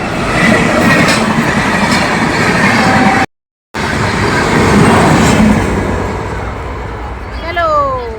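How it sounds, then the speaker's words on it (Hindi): A train passing at the Delhi level crossing in India, a loud continuous rumble of rolling railcars close by with a brief break and a squeal near the end, heavy and steady throughout. "ये है दिल्ली फाटक, जहाँ से हम निकल के जाएंगे और हमारे निकलने से पहले ही आ गई ट्रेन।"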